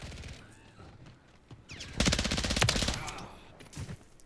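A VEL 46 submachine gun firing in rapid fully automatic bursts in a first-person shooter game, a dense rattling stream of shots that swells loudest in the middle, mixed with other game sounds.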